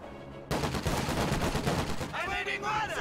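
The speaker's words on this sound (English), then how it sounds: "Conscripts engaging the machine gun here in the south." Machine gun fire in a World War II strategy video game: dense, rapid bursts of gunfire start abruptly and rattle continuously for a couple of seconds, followed by fainter ringing, tonal battlefield sounds.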